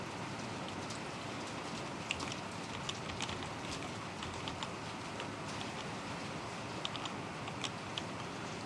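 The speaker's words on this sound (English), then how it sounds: "it's just heavy rain" Heavy rain falling steadily in the Dwarf Fortress video game, a dense, continuous hiss with scattered sharper drop ticks throughout, even and fairly close, with no voices.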